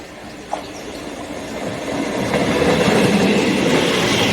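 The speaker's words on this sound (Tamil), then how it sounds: "அந்த ட்ரெயின் தான் நமக்கு ஏற்றாப்பில் வந்துட்டு இருக்கு பாருங்க" A passenger train approaches and rolls past close by on a line near Papanasam, Tamil Nadu, its rumble and rattling wheels swelling into a loud, steady roar.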